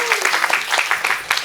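Audience applause honoring a singing performance, steady broadband clapping from a crowd lasting throughout, fairly loud and close.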